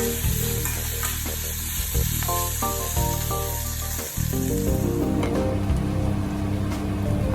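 Prawns frying in oil in a pan, a loud continuous sizzle like steady rain under background music, with a stir partway through.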